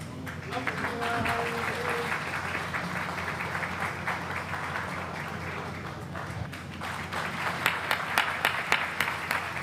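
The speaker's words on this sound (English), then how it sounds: "Please give him a round of applause." A festival crowd at a Swaminarayan Mahotsav in Houston applauds for a visiting US congressman, with steady massed clapping that swells near the end, while voices murmur underneath.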